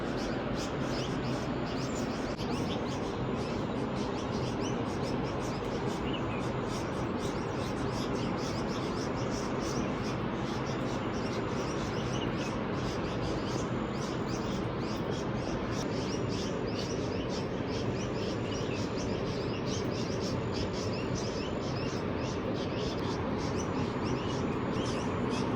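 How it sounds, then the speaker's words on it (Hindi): Birds chirp and tweet over the steady, loud roar of a mountain river near Joshimath in the monsoon, the rushing water filling the whole scene without a break. "आप नेचर का साउंड सुनिए, चिड़ियों की चहचहाहट, नदियों की गर्जना"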